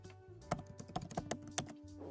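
Keys on a computer keyboard are tapped in a quick, uneven run of soft clicks and thunks, close but fairly quiet, with no talking over them.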